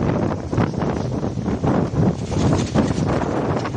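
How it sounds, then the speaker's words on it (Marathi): Strong gusting wind roars steadily into the microphone on a roadside at Chorumba junction during a windstorm with rain, surging in repeated loud gusts without any speech. "अति जोराचा वारा आहे"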